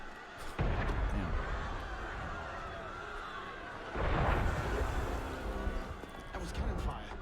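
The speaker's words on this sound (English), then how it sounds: "That was cannon fire." Cannon fire booms out in the Assassin's Creed: Unity video game, with heavy low-end blasts at the start and again partway through over a dense, restless backdrop of game ambience.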